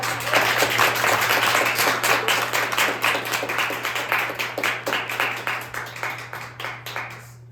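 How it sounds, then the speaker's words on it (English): Applause from a gathering of recent and soon-to-be college graduates, steady and fairly close across the whole stretch. A low constant hum runs beneath it, and the claps thin out toward the end. "can I get a round of applause"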